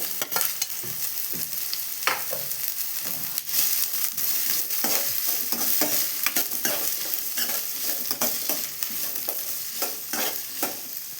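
Four chopped onions frying in a pan for bitter gourd gojju, a dense close sizzle with a steady run of spatula scrapes and clatters against the metal, no talking.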